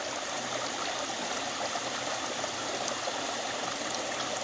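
Steady moving water circulating in a swimming pool converted to a koi pond, a continuous soft rushing flow with no voices.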